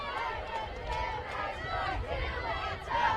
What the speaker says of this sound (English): the Wenatchee crowd is starting to get fired up now